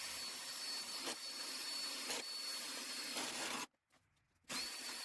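A power drill bores a hole through wood for a wheel bolt while a duck coop is being built, a loud continuous whine broken by brief surges, cutting off near the end before restarting.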